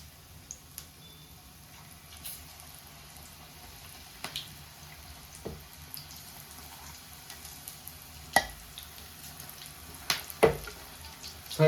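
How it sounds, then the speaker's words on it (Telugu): Chili bajji coated in batter frying in hot oil for a street-style snack, a faint steady sizzle broken by scattered sharp crackles and pops, with no talking. "సో ఇలా మిగతా పిండిని ఇలా వేసేసుకోండి ఆయిల్లో మిరపకాయ పైన."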